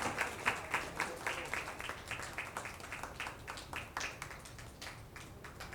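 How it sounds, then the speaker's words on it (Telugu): An audience at a Telugu book launch claps together in a steady, fairly quiet round of applause that rolls on for several seconds, sounding slightly distant. "చప్పట్లతో మనం కూడా భాగస్వామ్యం అవుదాం"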